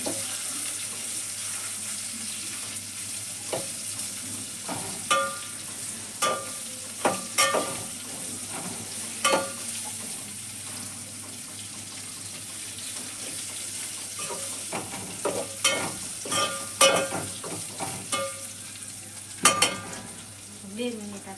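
Stuffed okra (bhindi) fries on a low flame in a soft steady sizzle, with recurring clinks and scrapes of stirring and stray splashy bursts across the stretch.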